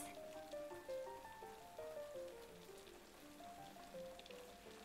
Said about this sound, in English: We get water every time it rains.